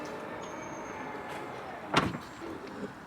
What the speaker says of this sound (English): And to close the boot. You just press that.